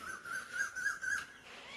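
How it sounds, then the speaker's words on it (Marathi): Outdoor morning birdsong, with a repeated clear whistled note sounding in short bursts, fairly close and moderately loud against a quiet background. "पक्ष्यांचं पण असं आवाज येतं."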